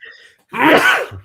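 A single loud, close sneeze bursts out after a brief pause, following a faint trace of speech and ending with a short low tail.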